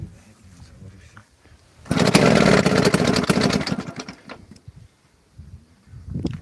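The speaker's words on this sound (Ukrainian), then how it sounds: "Заводимо трактор" A tractor engine, unstarted for six months, cranks and roars to life loudly for a couple of seconds, then sputters and fades, with a brief rumble returning at the end.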